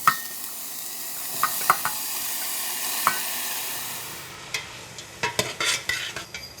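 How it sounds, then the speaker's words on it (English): Chopped leeks fry in hot oil with a soft, steady sizzle, while a utensil scrapes and clicks against the pan now and then, growing busier toward the end. "Once the oil is getting hot, I'm going to put in all the leek."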